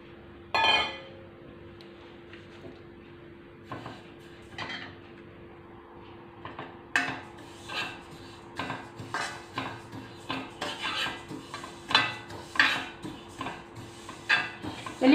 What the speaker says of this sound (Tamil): இப்போ நம்ம ஸ்டவ் கொத்து வச்சு வானலியை வச்சு காஞ்சதும் எள்ளை போட்டு வறுக்க போகிறோம்.